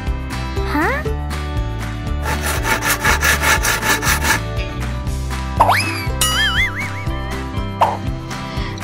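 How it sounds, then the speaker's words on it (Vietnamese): A hand saw cuts a tree into small logs for building a boat in a paper-crafts cartoon, with a quick rhythmic back-and-forth rasp over playful music and springy cartoon sound effects. "Bây giờ sẽ cưa cái cây này thành các khúc gỗ nhỏ để đóng thuyền."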